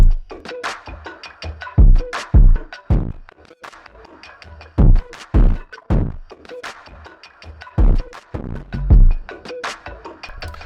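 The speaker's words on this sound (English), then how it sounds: "if you want to take some portion of the waveform and just chop it out" A sound chopped into abrupt, stuttering fragments, loud bursts cutting in and out irregularly with sharp starts and stops.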